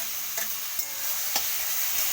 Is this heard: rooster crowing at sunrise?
no